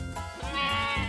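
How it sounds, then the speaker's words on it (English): Cartoon sheep bleat in a few drawn-out, wavering calls one after another, loud and close, with no talking over them. "There are too many sheep."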